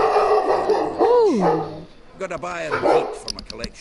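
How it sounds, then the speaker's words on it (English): A dog barks and yips in the background, with a whining, rising-falling vocalization followed by a few sharper barks, while someone talks over it. "We have puppers who like to bark randomly in the middle of the night for no reason."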